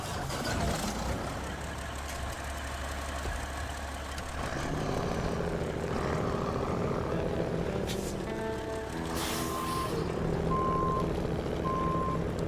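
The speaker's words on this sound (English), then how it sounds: "I guess I try to flip it over with this Kenworth." A Kenworth truck in a video game idles and rumbles as it manoeuvres to flip something over. Rhythmic reversing beeps sound near the end over the steady engine drone.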